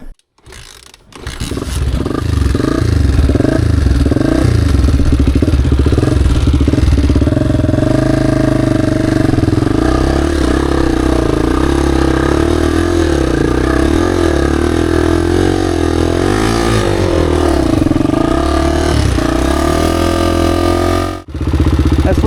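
A Honda XR dirt bike crawls up a hard trail, its single-cylinder engine loud and close with repeated throttle surges and labouring revs over about twenty seconds before it cuts off, with no voices.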